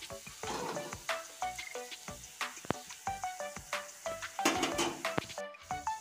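Jackfruit and potato pakoras frying in hot oil, a lively crackling sizzle punctuated by repeated metallic clinks and scrapes of a utensil against the pan.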